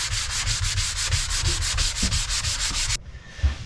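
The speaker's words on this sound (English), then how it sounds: "One last fine sanding and I'm ready to install it." Fine sanding of a wooden boat bulkhead by hand: a steady run of rhythmic back-and-forth rasping strokes, close and fairly loud, stopping abruptly near the end with a light knock afterward.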